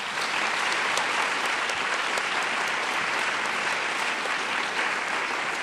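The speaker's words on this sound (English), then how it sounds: "How about a round of applause?" An audience at an evening law lecture gives a panel of judges a full round of applause, a dense, loud, continuous wash of clapping lasting several seconds.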